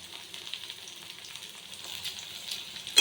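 Chopped capsicum frying in a pan for red sauce pasta gives a faint, soft sizzle with light crackles, quiet and steady, ending in a brief louder stir.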